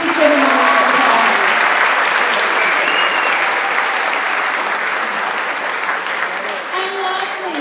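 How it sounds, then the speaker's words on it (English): Audience applause for a pianist introduced at a school choir concert, a dense, steady clapping from a full hall that holds for several seconds and slowly tapers, with faint murmurs mixed in. "Please give him a round of applause."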